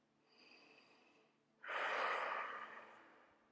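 A person breathes deeply while holding a yoga side plank: a soft intake first, then a strong, loud exhale that gradually fades, close to the microphone.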